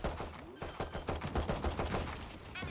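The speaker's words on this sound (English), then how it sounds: "Swarm grenade out." Killjoy's swarm grenade in Valorant goes off as a rapid string of small popping explosions, a fast crackling burst of blasts lasting about two seconds.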